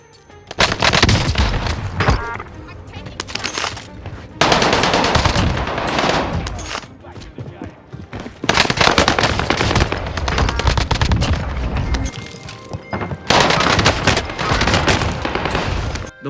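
Blixen submachine gun fire in Call of Duty Warzone: loud, rapid automatic bursts in several long strings separated by brief pauses, close and dominant, with no talking.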